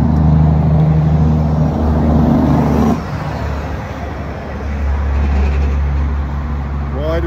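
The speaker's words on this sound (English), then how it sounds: "Why do truckies use their engine brakes in the city?" Truck engine braking in city traffic on a Fremantle bridge detour, with a loud, steady low rumble that drops off partway through, under constant surrounding road noise.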